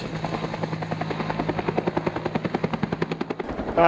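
A helicopter working on a heli-logging job drones steadily, its rotor thump sharpening into a fast, loud, rhythmic chop as it passes close, with no voices.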